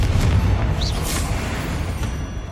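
Confringo spell blast in Hogwarts Legacy, a heavy booming explosion that hits hard up front and rumbles away over a couple of seconds, loud and close with no speech.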